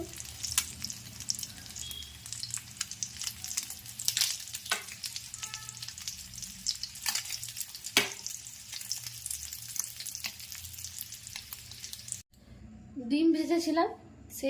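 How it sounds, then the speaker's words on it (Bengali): Whole garam masala (a cinnamon stick, two cloves and two cardamom pods) crackles and sizzles steadily in hot oil for Egg Mukhmalli, with scattered sharp pops, then stops abruptly as a voice speaks briefly at the end. "তেলটাতে আমি একটু গোটা গরম মশলা দিয়ে দিচ্ছি একটা দারচিনি দুটো লবঙ্গ দুটো এলাচ"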